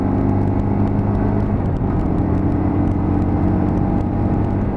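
A Lexmoto LXR 125cc motorcycle rides along a road, heard from the bike itself as a loud, steady engine drone and low rumble mixed with wind buzz, holding constant without a break.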